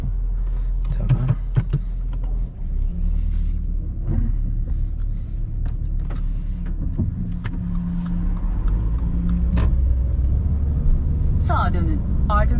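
A Subaru XV drives on a road, giving a steady low engine and road rumble inside the cabin that continues throughout, with a voice talking at times over it.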